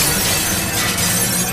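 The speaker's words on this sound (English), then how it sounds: "I grabbed it and began smashing the window" A hammer smashes through window glass, producing a loud, sustained crash of shattering and splintering that fills the moment with bright, noisy breakage and no voices.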